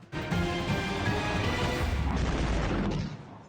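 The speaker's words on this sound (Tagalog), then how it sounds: "Dumagundong ang pagsabog sa West Tehran sa Iran nitong Huwebes Santo." A sudden loud blast in West Tehran, Iran, erupts near the start and rumbles on for a few seconds before cutting off.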